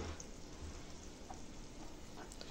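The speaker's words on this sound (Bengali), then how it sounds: "দিয়ে মশলাটাকে কিছুক্ষণ নাড়তে থাকবো ভালো করে কষিয়ে নেব" Spice paste with Kashmiri chilli powder fries in a pan for a Bengali fish curry, producing a faint, steady sizzle with soft stirring scrapes and no talk.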